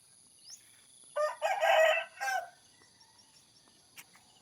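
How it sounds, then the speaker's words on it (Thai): A rooster crows once in the morning, a single clear cock-a-doodle-doo heard at moderate distance in otherwise quiet rural surroundings with faint birdsong. "ได้ยินแต่เสียงไก่ขัน"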